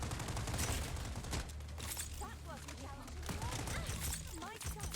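Rapid bursts of gunfire from teammates in the shooter game Strinova, dense and continuous across the clip, with a voice talking over the shots.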